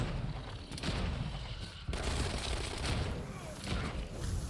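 Dense gunfire from the zombie game Dead Island 2, a near-continuous rattle of shots and booms with a short break partway through, heard close and loud against the game's noise.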